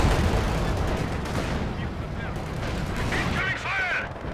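Gunfire and battle noise in the Company of Heroes 2 video game: dense, continuous rumbling and crackling combat, with bursts of shots under radio-style voice chatter.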